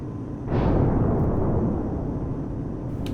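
A rocket fired from an F-86F Sabre jet in the DCS flight sim, one loud whooshing blast over steady engine rumble that trails off slowly.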